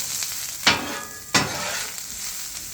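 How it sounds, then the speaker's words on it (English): Chunky onions sizzling in ghee on a flat griddle for a cheesesteak, a steady frying hiss broken by two sharp scraping bursts of a spatula near the start, no talking. "So I'm just going to go down with a little bit of ghee, come right back with those onions."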